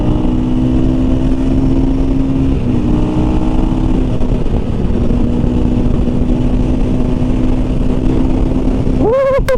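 A 2023 KTM 500 EXC-F motorcycle cruising at about 69 mph on a highway, a steady loud engine drone with heavy wind rush throughout, rising briefly in pitch near the end.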